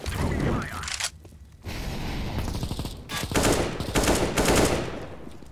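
Loud, sustained bursts of automatic gunfire in Counter-Strike: Global Offensive, rattling rapidly with brief pauses between volleys, close and dominant.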